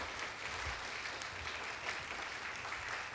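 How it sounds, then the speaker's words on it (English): An audience at an author's evening event gives a round of applause, a steady wash of clapping from many hands at moderate volume, continuous for a few seconds. "we are going to conclude our evening tonight by giving Dean a round of applause for sharing his story"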